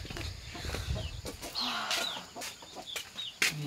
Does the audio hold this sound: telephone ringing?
no